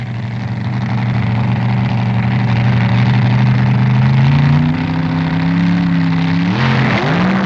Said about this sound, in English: Both machines are mad, far-out creations that run the quarter mile nearly as quickly as the fuel dragsters